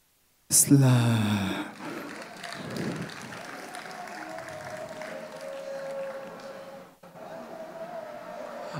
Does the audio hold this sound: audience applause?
yes